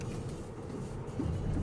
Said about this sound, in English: An empty wood lorry.